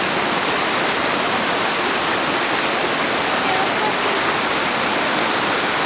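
A river running full, its water rushing loudly near a waterfall, making a steady, dense, unbroken roar close by.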